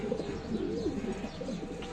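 Domestic pigeons coo in a freshly cleaned coop, a soft continuous burbling of several birds close by over a steady background murmur.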